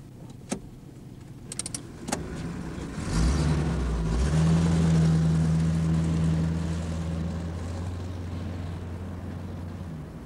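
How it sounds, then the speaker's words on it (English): A Model T Ford starts up after a few clicks and clunks, then its engine settles into a steady, low, close idle hum that drifts and fades slightly as it runs. "I never thought I'd get a chance to drive a Model T Ford again"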